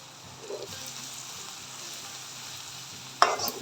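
Soft, steady sizzling of a frying mixture as spice powders are stirred in, a quiet scrape partway through and a brief sharp clink of utensil on pan near the end.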